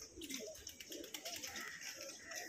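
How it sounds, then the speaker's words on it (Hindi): Pigeons coo softly and repeatedly, low rolling calls overlapping one another with faint ambient noise behind them. "और ये देखिए कबूतर ऊपर बैठे हैं"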